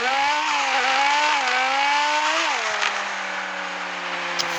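Simulated car engine in the driving game Car Parking revs in a loud, continuous tone whose pitch climbs and dips in steps as gears shift, with a faint skid near the end and no talking.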